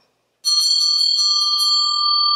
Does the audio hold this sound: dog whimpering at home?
no